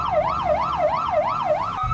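Ambulance siren wailing in a smooth, steady up-and-down sweep, about five cycles in under two seconds, loud and close with no talking.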